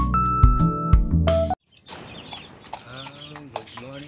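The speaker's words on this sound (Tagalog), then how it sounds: "At ating papakainin itong ating mga manok, mga nokis natin" Chickens cluck and chirp at feeding time in a backyard, close and irregular calls following a brief burst of louder mixed sound at the start.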